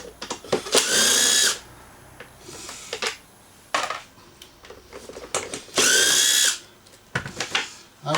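A power drill removes two screws from the air filter cover of a small engine, whirring in two loud bursts of about a second each, separated by clicks, clatter and handling of parts nearby.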